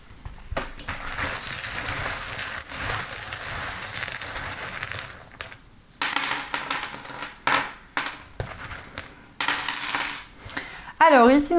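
Small metal charms cast for a divination reading, a loud sustained jingling clatter like shaken coins, followed by bursts of clinking as they scatter and settle, close and without talk.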